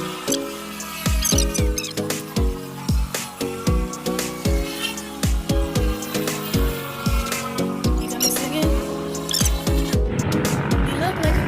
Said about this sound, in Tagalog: Naingay motor dito.